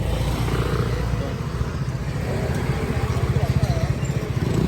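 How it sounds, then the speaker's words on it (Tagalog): A motorcycle engine rumbles close by on a market street, its throbbing growing louder toward the end as it passes, under background chatter and traffic noise. "May motor, wag ka tumawid muna."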